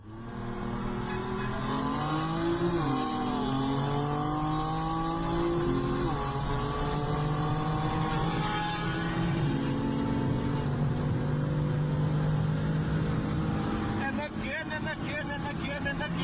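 A car accelerating hard, heard from inside the cabin, engine pitch climbing through repeated gear changes, loud and close, with excited voices talking over it.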